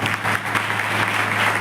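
Brief burst of audience clapping at a church youth meeting, a short dense wash of applause over a steady low hum.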